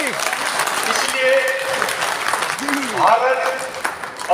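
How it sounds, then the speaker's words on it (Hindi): A crowd at a Samrat Ashok Jayanti gathering claps loudly and steadily as a dense wash of applause, while a voice rises over it. "जोरदार ताली।"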